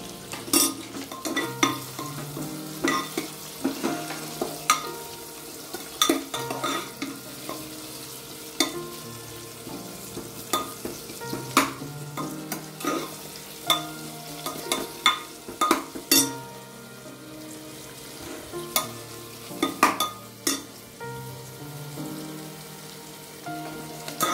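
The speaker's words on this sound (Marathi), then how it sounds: "लालसर होईपर्यंत छान तेलात भाजायचा आहे" Thinly sliced onion frying in hot oil for chicken yakhni pulao, a continuous soft sizzle and crackle with scattered pops and the occasional scrape of stirring, close up and with no talking.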